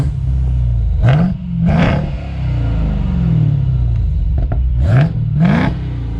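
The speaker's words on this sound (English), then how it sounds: "This is a Challenger 392 exhaust." A deep V8 through a Challenger 392 exhaust on a Hellcat-converted Chrysler 300 idles with a heavy rumble, then revs sharply in four bursts, two close together early and two later, each a loud rising roar.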